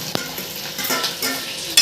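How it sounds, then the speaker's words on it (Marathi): Onion goes into a garlic-ginger paste frying in a pan for sambar. A loud, close sizzle and stirring scrape rise as it lands, ending with a sharp clatter. "त्यानंतर कांदा टाकून घेत आहे."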